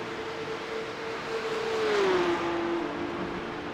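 Porsche Cup race cars circulate at Aragon, with a loud engine note holding steady and then sliding down in pitch as a car sweeps past against a broad roar of track noise.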